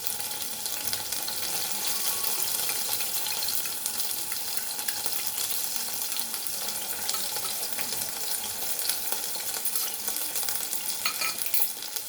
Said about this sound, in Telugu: అల్లం తెల్లగడ్డ పేస్టు, కొద్దిగా ఉప్పు కూడా ఇప్పుడు వేసేస్తానండి.